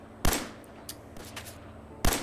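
Gunfire in Fallout 4: two loud sharp shots about two seconds apart, with fainter distant cracks between them over a low background hum.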